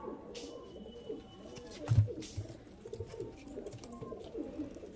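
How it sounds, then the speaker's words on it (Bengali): A Madras pigeon coos in soft low calls, one fuller coo standing out midway among faint fluttery calls, fairly near in a quiet setting. "এই অন কোয়ালিটির একটি পায়রা"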